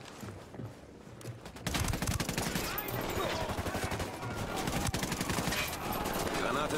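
A gunfire shootout in Tom Clancy's Ghost Recon Wildlands: rapid bursts of automatic fire and single shots crackle almost continuously, loud and close, building into a dense fusillade after a quieter start.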